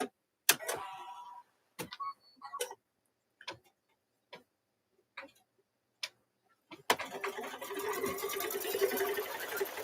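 An embroidery sewing machine stitching a quilt in the hoop, sparse ticking clicks at first, then a continuous rapid mechanical chatter of stitching for the last few seconds.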